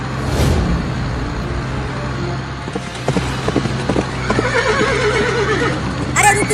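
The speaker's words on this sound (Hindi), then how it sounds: "घोड़ा तुम्हें गिरा देगा" A cartoon horse gives a loud whinny, then hooves clip-clop in a rapid galloping rhythm under background music, ending with another sharp neigh.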